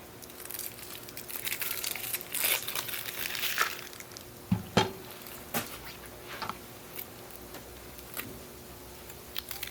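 The dry, papery outer skin of an onion being peeled off by hand in a kitchen: scattered soft crinkles and crackles with a few sharper snaps partway through, close and fairly quiet, with no talk.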